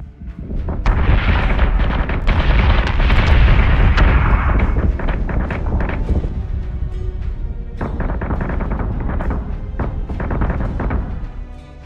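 Missile explosions in the space combat game Battlestar Galactica Deadlock, a dense loud barrage of booming blasts and rumbling bursts that thins briefly before another cluster of impacts.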